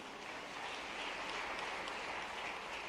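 Faint, steady clapping from an audience at a laptop award event for Madhya Pradesh Class 12 toppers, a dense even patter heard at a distance with no talk over it.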